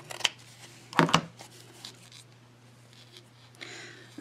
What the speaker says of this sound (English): And then cut this side here.